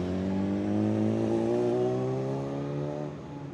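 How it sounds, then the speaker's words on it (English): A car passes along a busy street in Eagle, Idaho, its engine and tire noise swelling close by and then fading over a few seconds. "it's fairly busy, you know, you got cars coming through"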